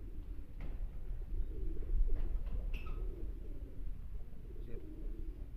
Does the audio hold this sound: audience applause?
no